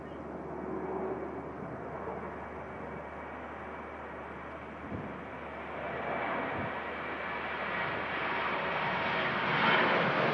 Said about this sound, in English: Ryanair just initiating the departure roll now.